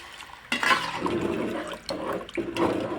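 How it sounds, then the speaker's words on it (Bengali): Water poured into a cooking pan of potatoes and pointed gourd for a curry, a steady close splashing gush lasting a few seconds with brief dips. "এখন আমি ঝোলের জন্য জল দিয়ে দেবো"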